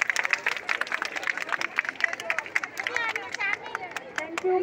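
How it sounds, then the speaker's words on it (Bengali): Applause for schoolgirls at a girls' high school, a crowd clapping in quick irregular bursts with chatter and voices mixed in, fairly close and lively for a few seconds. "খুব সুন্দর হয়েছে, ওদের জন্য জোরে একটা হাততালি হয়ে যাক।"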